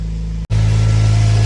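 A 2.0 litre Mazda MX-5 NC engine with a weak, draining battery fires up after a brief silent gap, then settles into a loud, steady low idle hum.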